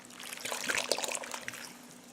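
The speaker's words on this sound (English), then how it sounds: "So I'm going to add some water." Water poured into a beef burrito filling in a pan, a short, soft trickle and splash building briefly then tapering off, close and fairly quiet, with no voices.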